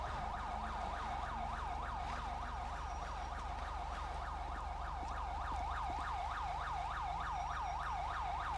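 Ambulance siren in Grand Theft Auto V, a rapid wailing yelp repeating evenly over a steady engine and ambient drone, with no talk.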